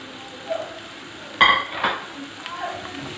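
Julienned tomato, capsicum and onion softening in a pan, giving a light sizzle with a few brief stirring clatters and scrapes, close and moderately loud, with no talk.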